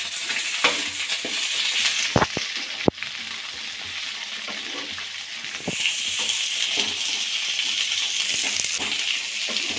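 Capsicum frying in a pan with golden-brown onions, a steady hiss of sizzling oil running throughout, broken by sharp clinks and scraping of a spatula stirring the pieces, louder in the second half.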